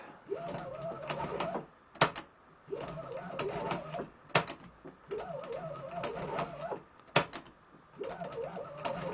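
A Monroe CST 8 mechanical calculator's carriage shifts along its travel in repeated runs of rapid mechanical clicking and whirring. Sharp clacks sit between the runs, all close up and with no voices.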